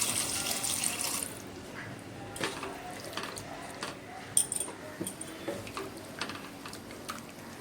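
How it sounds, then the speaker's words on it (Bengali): Water splashes into a pan of small fish curry in a short pour at the start, followed by quieter clinks and light scraping of stirring. "এর মধ্যে এবার জল দিয়ে দেব।"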